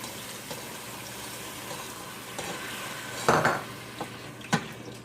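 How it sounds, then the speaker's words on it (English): Water is poured into a hot pot of breadfruit porridge with a brief splash and sizzle, followed by a couple of light clinks of metal against cookware. "So I'll add a little bit water because the water kind of dried up right now."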